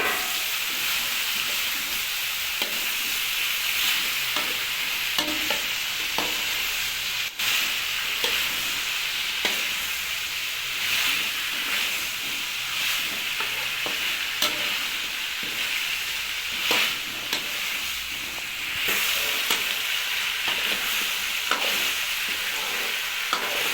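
Potatoes fry and are stirred in a pan for a capsicum and radish dish, a continuous loud sizzle broken by repeated scraping stirs, with no talking.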